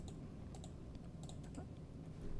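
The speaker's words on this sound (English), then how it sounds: "And you hear me clicking and clicking and clicking." A computer keyboard is typed on with sparse, quick clicks and keystrokes over a steady low hum, fairly faint and close.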